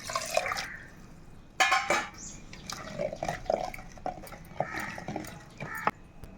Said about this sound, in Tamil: இதில் நம்ம ஃபில்ட்ரு பண்ணி வச்சு தண்ணி இதோட சேர்த்துக்கலாம்.